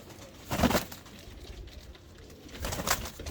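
Pigeons coo nearby in two separate soft, throaty bursts, with quiet ambient background between them.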